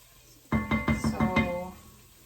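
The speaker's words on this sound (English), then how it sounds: "I'm going to continue to stir." A spoon stirring French onion soup in a pot, with thyme and a bay leaf going in, gives six quick, evenly spaced knocks and clinks against the pot. They are close and clear, with no talking over them.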